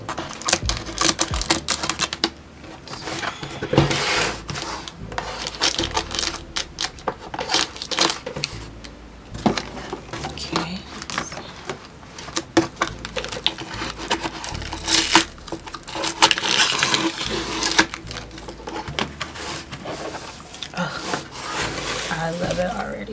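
Scissors cut open the package of a content planner during an unboxing, crisp repeated snips, crinkling and rustling plastic and paper, loud and close, with brief pauses between bursts.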